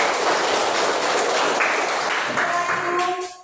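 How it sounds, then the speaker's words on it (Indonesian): A classroom group applauds a speaker, a dense burst of hand clapping that fills the space steadily, then thins out and fades near the end. "Tepuk tangan untuk dia."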